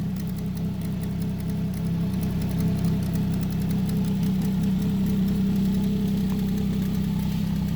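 A 2025 Ski-doo Grand Touring Sport snowmobile engine idles steadily nearby, a low, even rumbling purr with a fine rapid patter, continuous and unaccompanied by talk.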